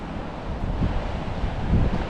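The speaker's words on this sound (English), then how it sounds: "the tide is coming in here, so you can't see a lot of sand on this beach" Sea waves and wind at Mermaid's Cove beach with an incoming tide: a steady broadband rush of surf and wind buffeting the microphone, fairly loud and continuous, with no talking.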